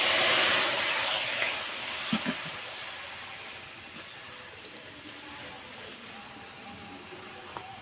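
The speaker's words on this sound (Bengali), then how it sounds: "কড়াইটার মধ্যে অল্প একটু জল দিয়ে দেবো" A little water splashed into a hot karahi over a lit stove while making coconut naru sweets: a loud, close hiss bursts out at once and then slowly dies to a softer, steady sizzle, broken by a few faint clicks.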